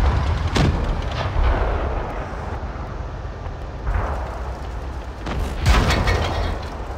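Tank cannons fire in WoT Blitz, a few sharp heavy booms spaced apart over a steady low rumble of engines, one louder blast landing near the end.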